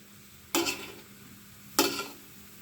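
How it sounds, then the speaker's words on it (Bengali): Ash gourd fry stirred in a pan before the lid goes on: two short, separate bursts of scraping and sizzling about a second apart, over a quiet background. "নাড়াচাড়া করে আমি এখন ঢেকে দিব।"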